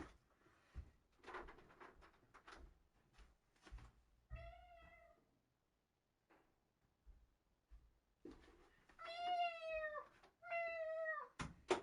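Several cat meows from Phoenix Wright: Justice for All, a video game, come in two separate bursts of clear, rising and falling calls, interspersed with game sound effects and pauses.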